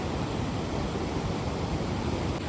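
Water rushing under strong pressure near a hillside village in cloud-covered mountains, a steady dense roar that stays loud and constant throughout, with no one speaking.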